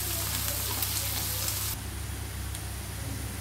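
Onions frying in a pan with a little salt, giving a steady close hiss and sizzle that drops slightly in intensity partway through but keeps crackling.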